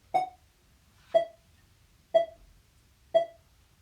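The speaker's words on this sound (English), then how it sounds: "if we stick them all together with a metronome at 60 beats per minute" Four evenly spaced, crisp metronome clicks sound once per second, each a short bright tick with silence between.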